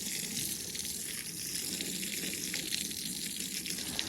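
Tap water runs steadily over a plastic fish-cleaning board as it is rinsed in a sink, a continuous close splashing rush with no talk.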